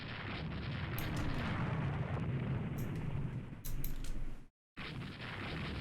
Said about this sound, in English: Oh, nice salvo there, beautiful.